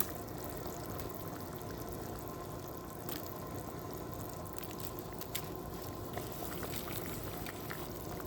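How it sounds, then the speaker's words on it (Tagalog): Meat boiling in a pot of water for sinigang and nilaga, a steady low bubbling and simmering that runs continuously and fairly quietly with no talk. "Ayan, mag-boil na tayo ng karne, pang sigang, ito naman pang nilaga."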